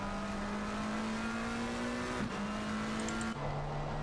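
A McLaren GT3 race car at Suzuka in a racing video game holds a steady engine drone, with pitch dropping at two gear shifts, up close and continuous.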